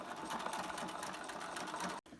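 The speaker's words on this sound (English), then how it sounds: "Stitch a straight stitch across there." Sewing machine running a straight stitch along the shoulder seam of a chore jacket facing, a fast steady close whir that stops abruptly near the end, with no talking.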